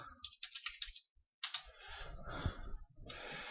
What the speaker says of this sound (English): just go ahead and type in Google Drive